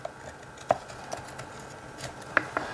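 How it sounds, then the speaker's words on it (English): A Spyderco Para-Military 2 folding knife with s110v steel blade shaving fine tinder curls off a wooden stick, heard as a few sparse, sharp close scrapes and ticks against a quiet background, with no talking. "So you just want to go along the actual stick with the knife and just get those fine little shavings"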